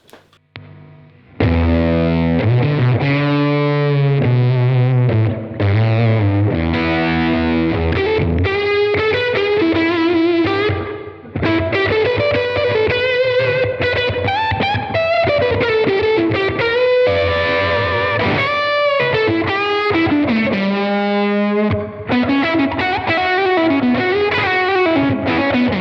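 Electric guitar played with fuzz through a Blackstar AMPED 1 amp, a thick, saturated, sustained distorted tone running through chords and melodic lines, loud and alone with no talking.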